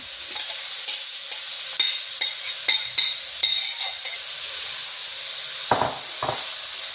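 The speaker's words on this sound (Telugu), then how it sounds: "ఉల్లిపాయల్ని బాగా గోల్డెన్ బ్రౌన్ వచ్చే వరకు బాగా వేయించుకోవాలండి" Onions and green chillies frying in a pan, a steady close sizzle with light scraping stirs and a few sharper spatula knocks near the end, no voices.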